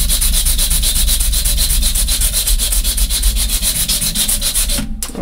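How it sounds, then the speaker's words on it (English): Loud, rhythmic abrasive rubbing of a sanding disc against wood, repeating strokes close up, stopping abruptly near the end. "Just using a sanding disc, like I've done on some of my previous ones."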